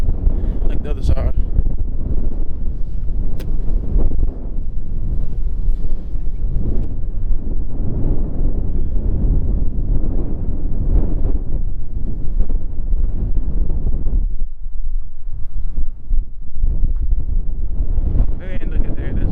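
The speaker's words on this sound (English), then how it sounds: "that wind is something else today" Strong wind buffets the microphone outdoors with constant loud low rumbling and gusting roar that barely lets up over the whole stretch, with a voice faintly mixed in.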